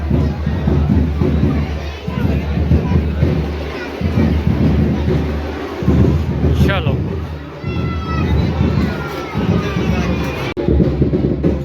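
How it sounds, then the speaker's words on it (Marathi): Dhol and tasha drums pound at a crowded temple festival for Guru Purnima, dense booming beats running steadily under a noisy, chattering crowd with voices throughout. "इकडे हे चालू आहे ढोल ताशे माझं चालू आहे"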